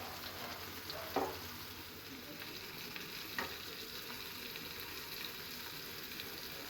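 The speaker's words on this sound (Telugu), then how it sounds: "వెల్లిపాయ పేస్ట్, కొత్తిమీర, కొబ్బరి మిక్స్ చేసి కర్రీలో వేయాలి." Egg curry simmering in a pan just after garlic paste, coriander and coconut are stirred in, giving a steady low sizzle and bubbling with a couple of brief stirring scrapes, heard close and alone.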